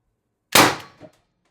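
A TR50 high-pressure air gun fires a 12.7mm ball bearing with no handle restrictor: one sharp, loud close-up crack that decays quickly, followed by a small metallic knock.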